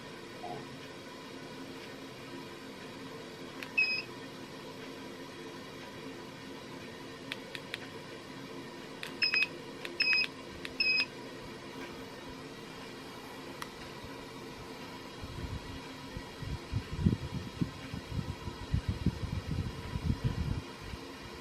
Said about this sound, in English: you hold this for 5 seconds and it'll beep.